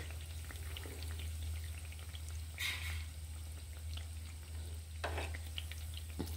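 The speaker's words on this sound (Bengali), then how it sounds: "তেলটা কম দেওয়া আছে বলে ওই জন্য একটু ফুটতে দেরি হচ্ছে, ওই জন্য আমি একটু নিচেটা নাড়িয়ে দিচ্ছি না আটকে যায়।" Sweet sugar pitha frying in a shallow layer of oil in a village kitchen while the bottom is stirred: a faint continuous sizzle over a low steady hum, with a couple of soft scraping stirs and no talk.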